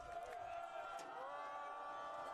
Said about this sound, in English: The crowd letting him hear it.